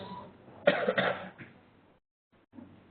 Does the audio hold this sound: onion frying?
no